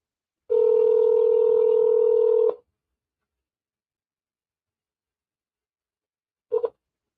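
Outgoing phone call ringing unanswered: one loud, steady two-tone ring lasting about two seconds, then silence and the short start of a second ring near the end, with no talking.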